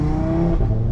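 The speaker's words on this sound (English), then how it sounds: "we firstly pull it into sport and then we slap it to the side, and then it, have a listen, opens up the exhaust valves" A 515 bhp Audi RS3 in sport mode with its exhaust valves open gives a loud, steady, throaty engine drone with a strong low rumble, held briefly and heard close.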